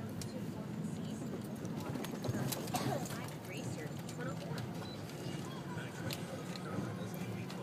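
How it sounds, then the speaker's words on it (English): A wild horse walks on a beach, its hoof clip-clop carrying under steady wind and voices talking nearby. "Look at it, it's a wild horse."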